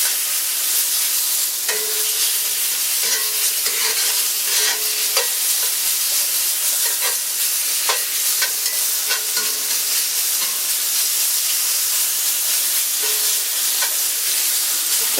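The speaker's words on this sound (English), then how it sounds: "you're using metal tongs on a cast iron pan" Pork for yakisoba stir-frying in a cast iron pan, a steady loud sizzle with repeated metallic clicks and scrapes as metal tongs turn the meat, no voices.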